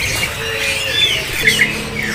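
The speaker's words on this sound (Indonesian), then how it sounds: "Dan ini dia untuk penampilannya dari burung kutilangnya." Sooty-headed bulbul (kutilang) at a bird kiosk in Pramuka market gives short squawking calls and chirps, fairly close and loud, over steady market background noise.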